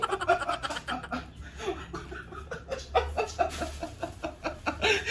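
Small peeps from a live chick and soft clucking chatter scattered through a busy, noisy scene, with some faint laughter-like sounds mixed in.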